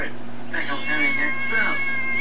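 A cat meows a few times, with drawn-out calls close by and voices audible around it.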